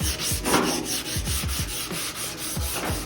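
Car paint is wet sanded by hand with 320 grit sandpaper, producing close, rhythmic back-and-forth rubbing strokes with a gritty, slightly wet scrape, steady and unbroken.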